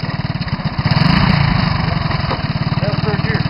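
A Honda 185S ATC three-wheeler runs on a street, its engine note steady and close with a brief swell as it revs, while voices talk over it.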